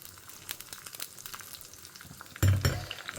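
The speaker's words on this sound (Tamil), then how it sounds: "நம்ம நெய்யில் முந்திரி பருப்பு திராட்சையை போட்டுடலாம்" Cashews and raisins frying in ghee for a dates payasam: a light crackling sizzle near the pan, then a sudden louder burst of frying as more goes in, fading back to steady crackle.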